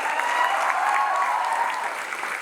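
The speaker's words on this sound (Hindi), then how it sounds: "चुन्नी सर के लिए एक बार जरा जोरदार तालियां बजाए।" Audience applause at a live comedy show, a dense, even wash of clapping from a crowd, steady and moderately loud, easing slightly toward the end.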